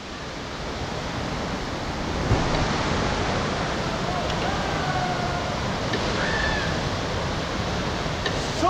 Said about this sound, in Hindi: हम लोग पूरा वेस्ट साउडंग वाटरफॉल में पहुंच चुका है